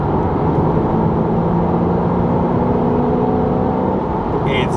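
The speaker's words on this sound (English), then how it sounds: "the downshifting on them is" Porsche Cayman 987 S engine heard from inside the car during a summer drive, a loud, steady mechanical drone with shifting harmonic tones, no clear blips of the downshift standing out.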